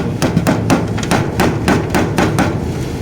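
Hammer blows knocking loose an old roof gutter, a run of about ten sharp metallic strikes in an irregular, fairly quick rhythm, close and clear with no talking.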